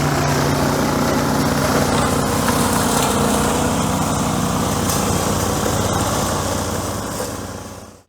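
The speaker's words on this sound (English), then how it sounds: "So this is the Logic MFT 120 UTV ATV Flail Mower." Logic MFT 120 ATV flail mower cutting through tall, thick roadside verge grass, a loud steady engine drone with a dense whirring, churning layer held throughout before cutting off at the end.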